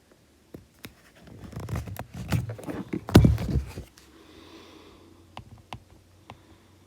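Marker writing notes on a presentation slide, a series of close scratchy strokes and squeaks building to a dense burst midway, then sparse taps and quiet pauses.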